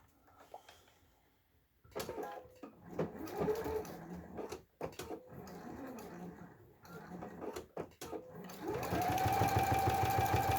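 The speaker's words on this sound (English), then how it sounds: "stitch down 1/8 of an inch, all the way around and back up" A sewing machine runs in quick bursts, stitching around the edges of a fabric wristlet, its whirring motor starting and stopping between pauses and ending in a longer steady run.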